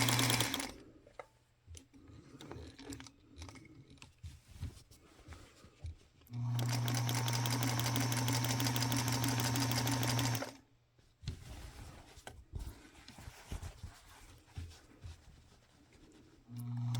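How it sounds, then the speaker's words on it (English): A Singer Featherweight sewing machine running during free motion quilting, with a loud, steady mechanical whir that holds for about four seconds mid-clip. Softer handling and fabric noises come before and after it. "that's what allows me to continue moving the fabric under the needle smoothly"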